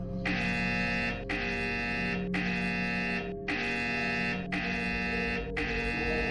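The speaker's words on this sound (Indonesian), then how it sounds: "ponselku berbunyi." A mobile phone ringing, a loud buzzy electronic tone repeating in long even bursts separated by brief gaps, sounding alone with no voices.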